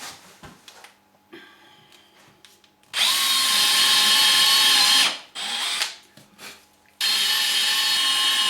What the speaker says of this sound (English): Let's get back to drilling.